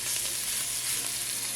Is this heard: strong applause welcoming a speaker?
no